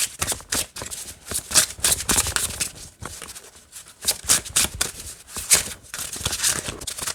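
A card deck being overhand shuffled by hand in quick repeated bursts of papery riffling and slapping, close and fairly loud, with short pauses between passes.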